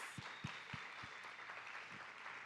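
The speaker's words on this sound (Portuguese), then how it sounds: "Palmas!" A studio audience on a Brazilian teen talk show claps briefly, faint, with a few distinct low thumps like a rhythmic beat over the scattered applause.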